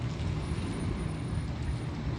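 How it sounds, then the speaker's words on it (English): Heavy road traffic rumbles continuously on a nearby street, a steady low engine drone of passing trucks with no speech over it. "yeah, a lot of trucks around here"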